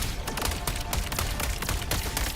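Rapid gunfire from a weapon in Wuthering Waves crackles in a dense, continuous burst of quick shots over busy game sound.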